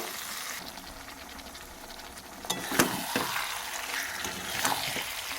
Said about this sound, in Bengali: এটা দিয়ে আবার বেশ কিছুক্ষণ সময় নিয়ে খুব ভালোভাবে মিশিয়ে এটা কষিয়ে নেব